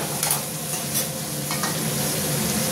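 Chopped onions frying toward golden in a pan, a continuous loud sizzle with a few stirring scrapes, no voices.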